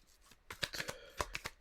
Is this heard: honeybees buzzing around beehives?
no